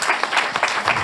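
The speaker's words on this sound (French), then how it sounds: "Merci beaucoup Marc et Franck, on peut les applaudir" An audience breaks into applause, a brief, dense burst of many hands clapping at close range with an even, continuous texture.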